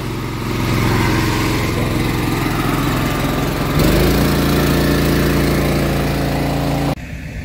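A crop sprayer's pump engine runs steadily and loudly up close, a constant buzzing drone that shifts pitch slightly partway through before an abrupt drop near the end.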